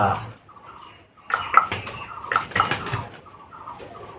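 A pigeon chick hand-fed water gives a few soft, squeaky peeps and small rustling sounds, heard close by in a quiet room.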